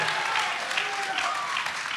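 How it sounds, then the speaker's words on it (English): Audience at a church gathering on faith at work bursts into steady, dense applause and cheering for a favorite named Believe, loud and continuous throughout. "I knew he was gonna get a big cheer"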